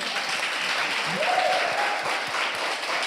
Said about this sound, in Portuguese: Agora vamos aplaudir ao Senhor Jesus por esse evento.